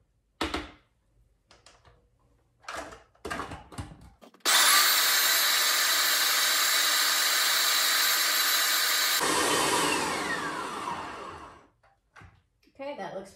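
Food processor blending hummus, a loud steady whirring drone that runs for several seconds, drops in pitch, then winds down, with brief talk before and after.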